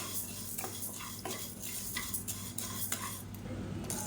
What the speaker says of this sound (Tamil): மெஷரிங் கப்பில் 1/4 கப் அளவுக்கு உளுந்து சேர்த்துக்கலாம். இப்போ இது நல்லா பொன்னிறமாக வறுத்துக்கலாம்.